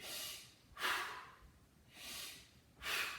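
Heavy, rhythmic breaths during a resistance band workout, about four strong exhalations alternating with inhales, loud and close, with no talking.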